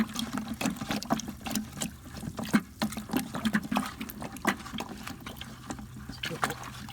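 Dirty water running and splashing out of a container as black walnuts are worked around in it with a hose, a steady close trickle broken by irregular sloshes and knocks of the nuts.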